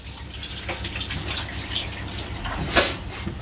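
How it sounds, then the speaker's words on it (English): Hands are washed under a running kitchen tap, with a steady close splash of water, uneven hand movements through the stream and a brief louder splash near the end. "Give my hands a small wash again."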